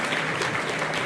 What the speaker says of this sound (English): he deserves a big applause than anyone else